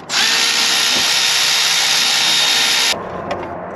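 A quarter-inch drive tool whirs steadily and loudly for about three seconds while backing out the oil cooler cover screws on a 1960 Corvair, then stops abruptly, leaving quiet shop background.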